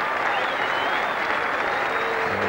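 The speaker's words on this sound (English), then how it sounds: "the crowd standing and applauding him off the ground" A cricket crowd at a one-day Mercantile Mutual Cup match stands and applauds a batsman off the ground, a dense, steady wash of clapping and cheering filling the whole stretch.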